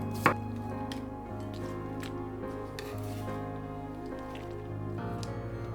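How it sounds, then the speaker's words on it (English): Knife slicing a cucumber into thin slices on a board, a series of crisp, evenly spaced cuts close by, playing under background music. "Cut a cucumber into thin slices."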